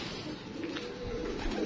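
Pigeons cooing close by in a loft, soft repeated throaty coos over a low background hum.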